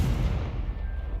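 A Confringo blasting curse detonating in Hogwarts Legacy, a single deep booming explosion with a rumbling low-end body that decays over about a second, loud and with no voices.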